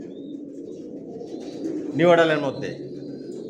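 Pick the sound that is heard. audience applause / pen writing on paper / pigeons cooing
pigeons cooing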